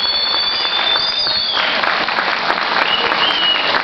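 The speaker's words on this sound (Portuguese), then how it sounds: "Vamos aplaudir a cidade de Registro. Pode aplaudir à vontade, viu?" A concert audience applauds the town of Registro after a municipal band performance, a dense, steady wash of clapping that stays loud and continuous throughout.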